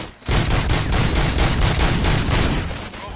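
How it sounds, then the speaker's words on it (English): Sustained burst of rapid gunfire from the RoboCop: Rogue City video game, loud and dense for about three seconds with continuous overlapping shots and no talk. "Gunshots? What's going on?"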